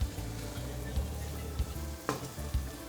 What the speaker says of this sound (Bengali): এখানে আমি বয়েল করা ভেজিটেবলগুলো দিয়ে দিচ্ছি, সল্ট দিচ্ছি